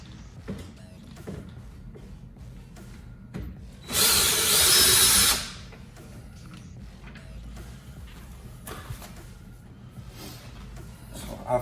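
A power tool whirs loudly for about a second and a half while removing bolts from a Porsche door trim panel, set amid quiet workshop clicks and handling noises.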